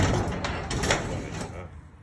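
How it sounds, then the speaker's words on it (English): A residential garage door rumbling open on a hot, sunny day, a steady broadband mechanical roll with a few rattling surges, fairly close and continuous, easing off near the end. "This garage door."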